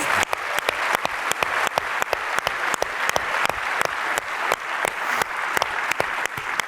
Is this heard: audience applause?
yes